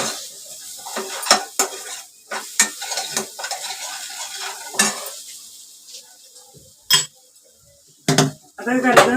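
A spoon repeatedly scrapes and knocks against a pan as vada pav potato filling is sautéed in oil, with sharp irregular clinks over a soft background sizzle, close and clear.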